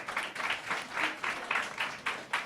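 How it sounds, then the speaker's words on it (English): An audience at a youth justice summit applauds with a steady, pulsing patter of clapping. It carries moderately from the room and holds through the whole stretch. "can we all please give a round of applause for the panelists?"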